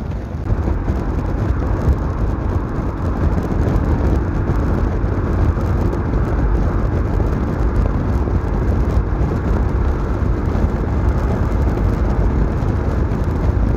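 A Yamaha Xmax scooter cruises along a highway at night, its engine buried in a loud, constant rush of wind and road noise that never lets up.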